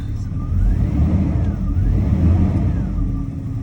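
A Jaguar XJ40 engine running rough rumbles unevenly nearby, rising and falling as it revs, with a faint whining tone sweeping up and down over the low roar.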